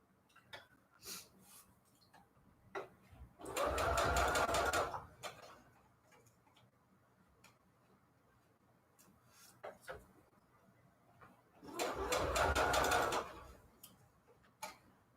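A sewing machine stitches ruffle trim in two short bursts of fast, rattling mechanical stitching, each lasting about two seconds, with quiet clicks and handling noises in between.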